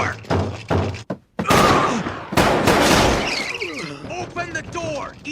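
Gunfire in an anime police raid scene: a few sharp, loud shots crack out early, then voices and shouting take over with scattered thuds in the background.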